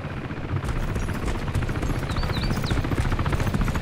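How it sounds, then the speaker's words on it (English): A helicopter in the DayZ Overpoch video game passes close and loud, a dense, rapid chopping rotor throb filling the whole stretch with a few faint high chirps. "Helicopter's coming back."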